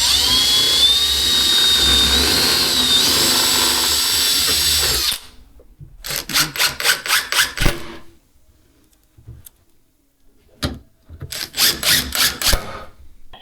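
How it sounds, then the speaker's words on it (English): A power drill with a pre-drill bit boring holes for a bi-fold door track: a loud steady whine for several seconds, then after a pause short pulsing bursts of drilling separated by quiet gaps, close up with no talking. "we're going to use a pre-drill bit and mark all those holes"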